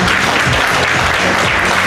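Spectators at a fashion show in a shopping mall clap together, a loud, dense burst of applause that stays steady and close for its whole short length.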